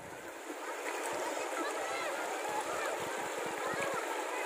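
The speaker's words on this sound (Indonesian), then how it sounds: "air mengalir di bebatuan seperti ini" River water flowing over rocks on the Cipamingkis River near Bogor, a continuous close gurgling and splashing wash with rumbling low-end bursts, steady in level throughout.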